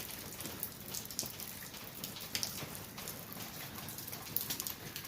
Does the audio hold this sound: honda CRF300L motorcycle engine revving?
no